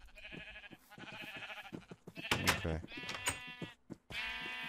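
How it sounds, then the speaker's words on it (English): Sheep in the Minecraft video game bleat repeatedly and loudly in quick succession, layered cartoonish baas close up, with a brief spoken word mixed in. "Oh, I forgot to breed the sheep."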